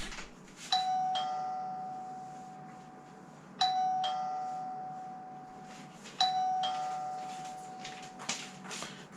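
A Sonoff TX Ultimate smart touch switch used as a doorbell plays its chime three times. Each play is a bright, two-note ding that rings on and fades, heard alone in a quiet room.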